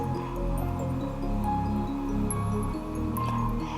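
Yellow and red curry paste is stirred in a pan over medium heat, giving soft wet squishing and dripping sounds beneath steady background music.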